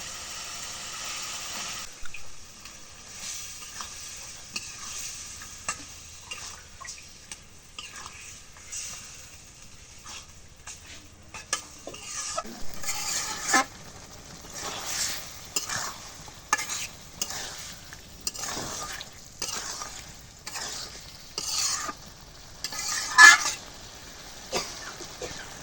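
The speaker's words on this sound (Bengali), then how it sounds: "এখন মাংসটা রাইখা দিয়ে কষাই দিই" Goat meat is stirred and fried in spice paste. A faint sizzle gives way to repeated close scraping and stirring strokes that grow louder and busier over time, with no talking.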